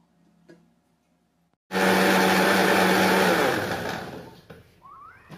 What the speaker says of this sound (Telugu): నేను దీనిని మిక్సీ జార్లోకి వేసుకొని ఒకసారి బ్లెండ్ చేసుకుంటే అది పూర్తిగా బ్లెండ్ అయిపోతుంది